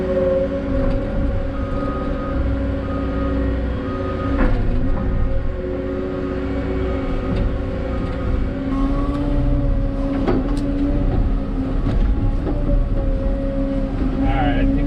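A CAT 259D3 compact track loader skid steer runs steadily nearby with a constant low engine drone and tonal hum, working a tight job site alongside a CAT 317 excavator, with occasional clunks over the engine.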